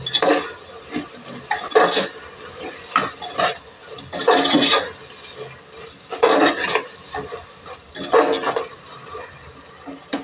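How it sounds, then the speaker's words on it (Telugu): Chili powder is stirred into a ridge gourd curry, with a spoon scraping the pan in about five rhythmic, fairly loud strokes separated by brief pauses. "ఇది రెండు స్పూన్ల కారం అండి ఒకసారి కలుపుదాం"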